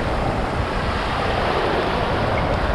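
Ocean surf washes steadily onto a beach where shells are washed in, a continuous broadband roar with no distinct breaks, with wind buffeting the microphone.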